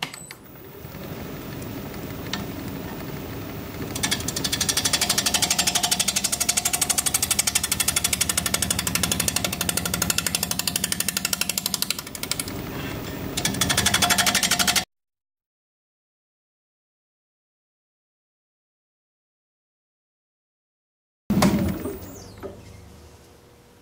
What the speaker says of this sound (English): I have a 5/8 inch freshly sharpened bowl gouge, and we're going to be turning it about 730 RPM